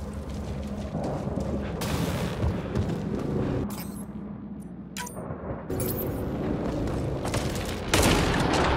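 Gunfire in the Mass Effect Andromeda video game, loud booming shots and blasts layered over a dense, noisy game soundscape, with several sharp cracks standing out and no voices.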